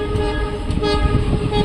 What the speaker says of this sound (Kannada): ನೆಕ್ಸ್ಟ್ ಇನ್ನೊಂದು ಟ್ರೈನ್ ಆ ಕಡೆ